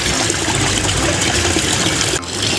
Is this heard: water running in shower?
yes